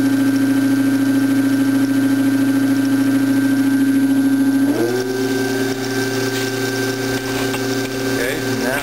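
A permanent magnet motor run as a pedal-powered bicycle generator spins with a steady hum that jumps to a higher pitch partway through as it speeds up, then holds, close and loud, with no talk over it.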